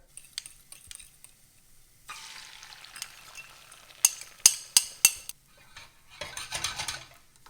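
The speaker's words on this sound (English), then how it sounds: "And then we're going to make our omelette." An omelette cooks in a pan at home, with soft sizzling under a few sharp metallic clinks and scrapes of utensil against pan, then a brief burst of rustling movement near the end.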